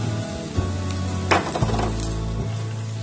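Chopped onion and garlic fry in a pan for a shrimp dish, giving a steady close sizzle with a brief louder crackle as the food is stirred partway through.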